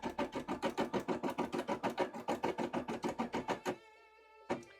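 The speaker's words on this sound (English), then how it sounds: "We've just got our embroidery machine started." An embroidery machine stitching a bra runs at a fast, even pulsing rhythm close by, then stops abruptly, leaving a faint hum followed by a single sharp click.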